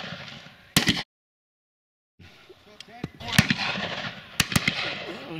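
Shotgun blasts on a partridge and pheasant shoot in Dorset: a sharp report, a brief silent gap, then several more cracking shots spread over the rest of the moment amid outdoor noise and some voices.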